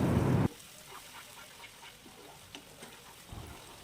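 Spices are fried in a pan while cooking chicken leg pieces, with a short, loud sizzle at the start that quickly drops to quiet, sparse scraping and stirring clicks.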